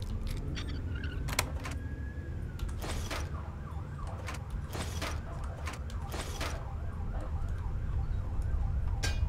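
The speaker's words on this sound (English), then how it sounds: "Hope you guys can't hear that siren outside." A wailing siren rises and falls in the distance outside a room where Fallout 3 is being played on PC, with a steady rumble of background noise and a few sharp clicks and rattles nearby.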